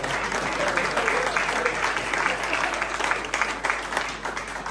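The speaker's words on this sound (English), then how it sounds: "Big round of applause for Nigel Knight, everyone." An audience at a Red Special guitar meetup claps in steady, dense applause that holds throughout, loud and close, with faint crowd murmur underneath.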